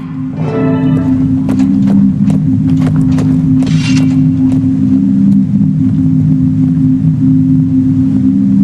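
A boat engine drones loud and steady in Guild Wars 2, with a low constant hum and a few mechanical clanks and knocks near the start as it gets going.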